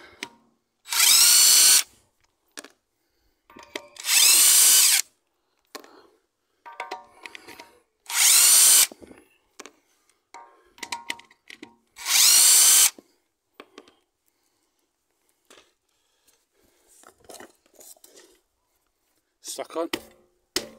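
A power tool spins wheel nuts off a jacked-up SEAT Leon in four loud bursts of a couple of seconds each. Quiet clinks and handling noises fill the gaps, and brief voices come in near the end.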